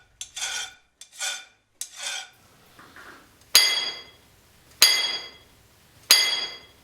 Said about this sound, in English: As he strikes the drill with his hammer, a tiny amount of rock is chipped away.